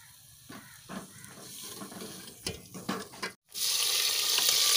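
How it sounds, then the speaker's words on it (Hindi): Onions frying in a pan for a home-cooked aloo matar in a village kitchen: soft crackling and stirring scrapes, then a short pause before a loud, steady sizzling hiss. "अभी जो है ना प्याज भून रहे हैं"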